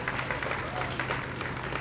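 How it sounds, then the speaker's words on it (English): Steady applause fills the whole moment, a dense, even crackle of many hands over a low background hum, with no voices standing out. "let's give her a big round of applause"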